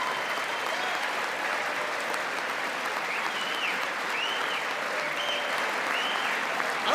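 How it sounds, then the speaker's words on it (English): Sustained applause from the audience in the Congress chamber during a presidential address to a joint session, a steady broad wash of clapping that holds at an even level, with faint whistles or cheers rising above it. "Clap like seals again."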